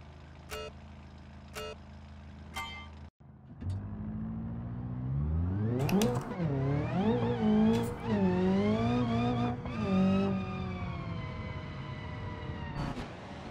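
A race car engine in the driving game BeamNG.drive on Hirochi Raceway revs up and roars loudly through rising and falling gear changes, after a few short sharp bursts near the start.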